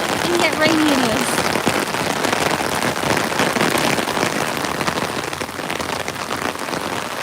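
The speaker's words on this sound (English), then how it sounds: "Look at how sunny and yet rainy it is." Steady rain falls on a sunny day at Disney's Saratoga Springs Resort, a dense, loud patter of drops on surfaces with a faint voice early on.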